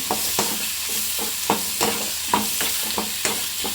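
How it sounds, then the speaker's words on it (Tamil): Tomatoes frying in a pan for chutney, stirred with repeated scraping strokes about every half second over a continuous close sizzle. "அப்படியே தக்காளி பழத்தையும் போட்டு நல்லா கிண்டி விட்டுக்கோங்க"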